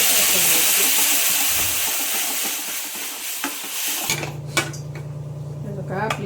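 Chutney tipped into hot tempering with asafoetida hisses and sizzles loudly at first, then settles into a steady lower frying sizzle with a few sharp clinks of a pan and spoon.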